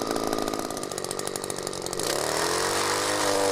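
An ECHO PPT-280 gas power pruner cutting a tree branch close to the trunk, its two-stroke engine buzzing loudly and then dropping into a lower, steadier whine as the chain bites and goes through the wood.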